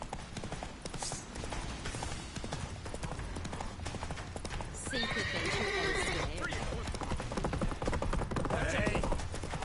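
Roach, a horse in The Witcher 3, gallops with steady, driving hoofbeats and whinnies loudly midway and again near the end, while voices speak over the hooves.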